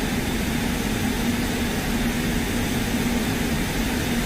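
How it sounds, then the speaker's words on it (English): A military jet flies in a combat flight simulator, its engine giving a continuous, loud droning roar with a steady low tone, unbroken and without speech. "So also try not to crash my aeroplane."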